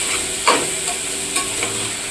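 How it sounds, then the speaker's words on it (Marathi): Rice sautéing in ghee in a pan for Koli-Konkani coconut rice, a continuous bright sizzle with two soft scrapes of stirring, short and close, no talk. "व्यवस्थित तुपामध्ये परतून घेते आता"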